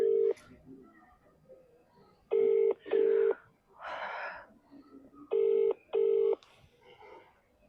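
A phone dials a call: short, loud electronic keypad tones sound in pairs, separated by quieter pauses with faint background voices, recorded in an indoor scene from a Punjabi short drama.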